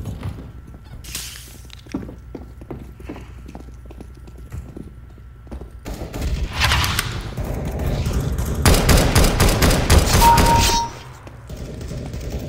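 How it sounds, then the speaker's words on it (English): Gunfire in the video game Counter-Strike: Global Offensive: a string of light clicking shots at first, then a louder burst and a dense, rapid automatic volley toward the end, close and loud. "Why are you shooting me?"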